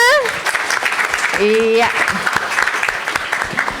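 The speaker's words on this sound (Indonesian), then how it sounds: "Sekali lagi tepuk tangan untuk kita semua." Clapping from a crowd at a high school event fills the clip, with a voice and other talk rising above the applause.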